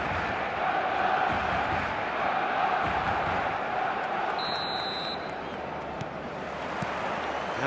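A stadium crowd in the eFootball video game gives off a continuous, dense roar before kickoff. It stays steady and fairly loud for several seconds, with a brief higher tone partway through.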